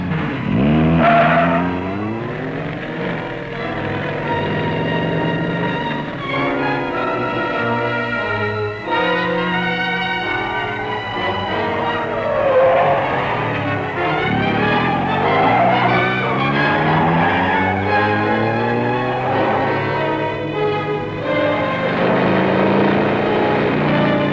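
A car from a 1954 crime drama drives hard, tires squealing and skidding in long wavering screeches over a steady engine roar, loud and continuous with no one talking.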